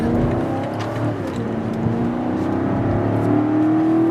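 A 2023 BMW X7 M60i's engine pulls steadily on a freeway on-ramp, heard from inside as a continuous rising drone and whir with no talk over it.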